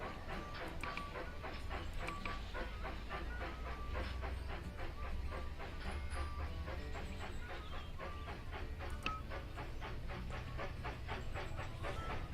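Steady rhythmic clatter of a steam train in the video game Railroad Tycoon 3, running continuously, with chugging beats and hissing over a dense low rumble, loud and close throughout.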